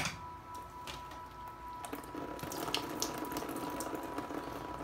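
Fertilizer solution of calcium nitrate pours from a gallon jug over potted Dendrobium orchids, a steady close splashing stream that runs on and thickens slightly toward the end.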